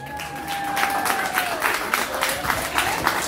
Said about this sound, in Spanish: Vamos a dar la bienvenida con un fuerte aplauso a Nicole.